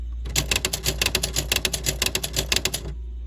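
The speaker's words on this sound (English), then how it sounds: "I'm gonna hit word erase and let's see what happens." A Smith Corona SL 575 electronic typewriter runs its word-erase function, giving a rapid burst of sharp mechanical clacks and ticks in a steady rhythm over a low constant hum, close and fairly loud, stopping abruptly near the end.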